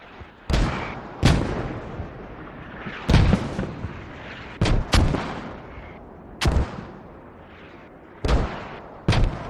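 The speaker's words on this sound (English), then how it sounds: "BOB mortars are still going on the northwest" Mortar rounds landing in a Squad tactical shooter match on the Fools Road map: eight heavy booming impacts spaced unevenly over several seconds, each a sharp thud with a rumbling tail, loud and fairly close, with no talk.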